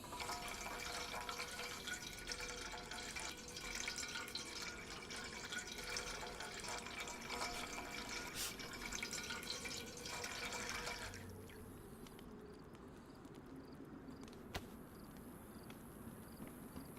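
Water being poured into a container in the survival game DayZ, a faint, steady trickling fill that runs for several seconds and then stops, leaving quiet ambience with a soft drip.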